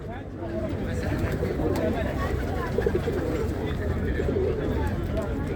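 Pigeons coo among other birds at a bird and poultry market in Ganja, amid a busy outdoor crowd, with steady babble and people talking throughout.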